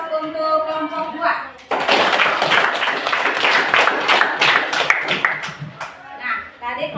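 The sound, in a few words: applause for group 2 in a classroom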